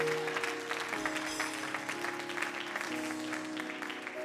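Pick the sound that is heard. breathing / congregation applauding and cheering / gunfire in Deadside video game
congregation applauding and cheering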